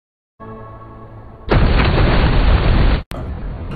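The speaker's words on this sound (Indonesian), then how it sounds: "Kemudian gedung itu akhirnya meledak." A humming tone gives way to a sudden loud, roaring building explosion blast that rumbles for over a second, cuts off sharply, then a lower roar continues.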